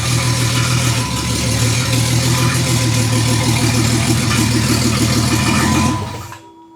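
A rebuilt car engine idles close by, a steady loud rumble with a rhythmic low throb that holds evenly before cutting off near the end.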